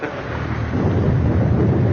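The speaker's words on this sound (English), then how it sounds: "it's going to be 3 days before this storm blows over" Thunder rolls through a heavy storm, a loud, continuous low rumble that swells and holds steady with a wash of rain and wind behind it.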